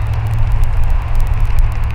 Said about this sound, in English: Sorry about the traffic noise.